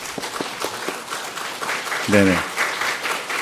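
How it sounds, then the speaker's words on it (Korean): A church congregation claps to welcome a visiting pastor home in Korea on sabbatical: a steady wash of applause at moderate level, with a brief voice speaking over it partway through. "우리 목사님 환영의 박수 좀 부탁드리겠습니다"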